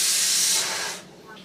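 Halved fish rubbed with salt and masala hits a hot pan and gives a loud, broad hiss for about a second before easing to a softer, fading sizzle.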